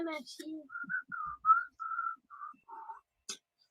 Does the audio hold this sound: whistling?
yes